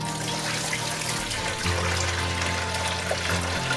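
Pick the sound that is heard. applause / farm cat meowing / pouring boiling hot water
pouring boiling hot water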